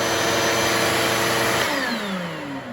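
A vacuum dust collector hooked to a planer runs with a steady, loud broadband roar. Toward the end, a falling whine suggests the machine winding down.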